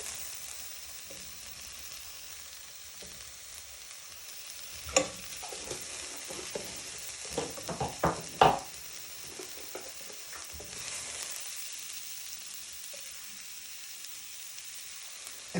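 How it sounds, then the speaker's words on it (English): Cumin seeds fry in hot oil for spicy rice, a soft continuous sizzle with a cluster of louder crackles and stirring clicks in the middle, no voices. "You first want to add a pinch of cumin seeds."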